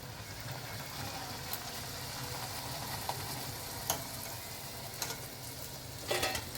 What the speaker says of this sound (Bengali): একটা দিই লুচি তেলটা মনে হয় ভালো গরম হয়নি